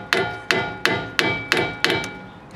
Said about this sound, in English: the best thing to do is to hammer it in place.